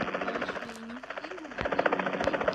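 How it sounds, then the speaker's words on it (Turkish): A helicopter in the mobile battle-royale game PUBG Mobile gives off a buzzing, chopping drone that sits fairly faint behind the game sounds, with scattered sharp pops of gunfire late on. "Aa helikopter var bir tane daha."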